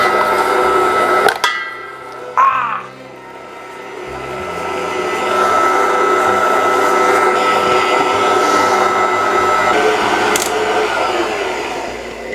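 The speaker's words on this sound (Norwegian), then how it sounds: "starte mikseren, vann og gjær oppi, og kjøre ut." A stand mixer runs steadily, kneading Neapolitan pizza dough of flour, salt, water and yeast, with a loud continuous motor whine and a couple of brief knocks near the start.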